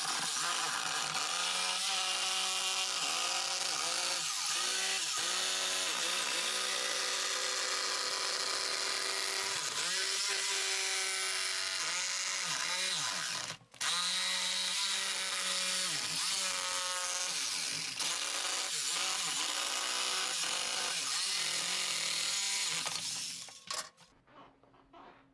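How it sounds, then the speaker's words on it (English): A jigsaw cuts through wood after a pilot hole is drilled, a loud steady buzzing whine held for over twenty seconds with a brief stop partway, then cutting off near the end. "cut a pilot hole for jigsaw"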